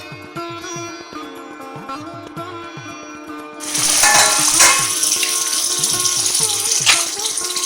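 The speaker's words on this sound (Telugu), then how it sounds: "చేప అడుగు పట్టకుండా ఒకసారి ఇలా కలుపుకుందాం." Fish curry (chepala pulusu) gets stirred in a pan: a loud, steady sizzling and scraping rush starts midway and continues, while soft rhythmic music plays underneath throughout.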